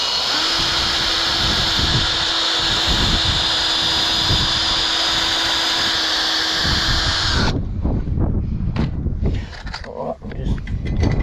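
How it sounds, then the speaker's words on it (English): A power drill fitted with a metal bit bores into the frame of a folding garden kneeler, giving a loud, steady high whine for several seconds before it cuts off, followed by clattering handling noises. "just let the drill do the work"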